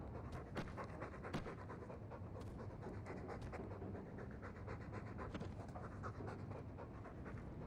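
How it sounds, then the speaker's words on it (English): A puppy in a video game pants in a fast, steady rhythm throughout, soft and close, with no talk over it. "Who's a funny puppy?"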